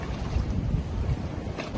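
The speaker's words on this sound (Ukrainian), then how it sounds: "Я сьогодні знаходжуся коло озера, і сьогодні вітряна погода." Wind gusts across a lake shore, buffeting the microphone in a continuous low rumble with a faint rising whoosh near the end, no voices present.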